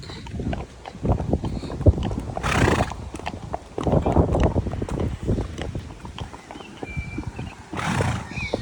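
Horses out hacking on a short stretch of road clip-clop along with steady hoof strikes, close and fairly loud, with a neigh and bursts of breath or wind noise between steps.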